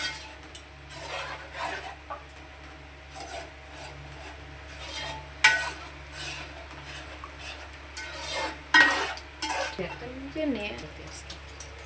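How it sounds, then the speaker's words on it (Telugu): A spoon stirs ginger rasam with tamarind in a pot, making intermittent soft scraping and rubbing strokes close by, fairly quiet over a low background hum. "చింతపండు పులుపు వేసుకున్న తర్వాత బాగా కలుపుకోవాలి."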